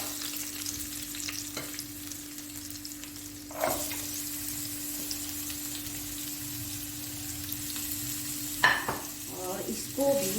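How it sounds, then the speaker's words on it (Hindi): Onions fry in a pan during a chicken kachori recipe, a soft continuous sizzle with occasional stirring scrapes and clinks, fairly quiet and with no talk. "थोड़ा सा फ्राई करने के बाद इसमें डालूंगी मैं प्याज"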